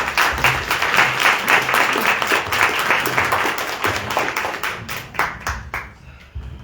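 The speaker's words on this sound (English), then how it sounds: "let's give our candidates a round of applause" A crowd applauds political candidates at a public forum with dense, steady clapping that gradually thins out, ending in a few scattered claps.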